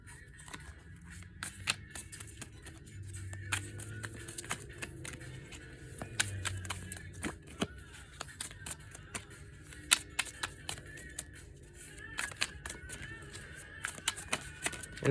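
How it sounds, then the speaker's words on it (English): Tarot cards being shuffled by hand during a reading, giving soft, irregular riffling clicks and slides that carry on throughout, close and fairly quiet. "We're just going to go ahead and shuffle a card out here."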